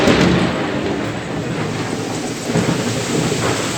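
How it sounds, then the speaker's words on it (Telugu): Heavy rain pouring steadily with a deep rumble of thunder rolling underneath, loud and close throughout with no voices. "అమ్మో ఉరుము చూసారా ఎంత పెద్ద ఉరుము అయిందో"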